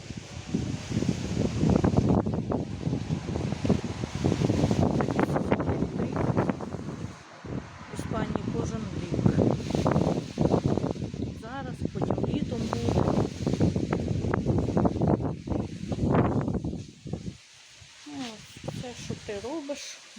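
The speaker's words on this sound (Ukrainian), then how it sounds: "Я ж кажу, вітер несусвітний." Strong wind roars and buffets the microphone steadily throughout, with a person talking underneath the gusts.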